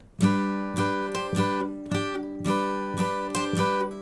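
Guitar chords are strummed in a steady rhythm, about eight ringing strums with short gaps, played close and clear.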